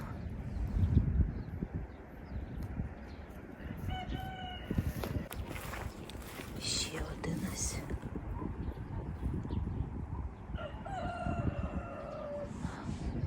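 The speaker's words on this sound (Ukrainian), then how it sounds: "півник там кричить у сусідів" A neighbour's rooster crows twice in the distance, brief strained calls over outdoor rustling, with a quiet voice speaking between them.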